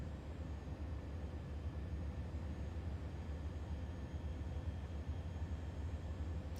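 Steady low engine drone from an Airbus A400 military transport aircraft with its turboprop engines at idle during a descent in Microsoft Flight Simulator 2024, a constant rumble with no talk over it.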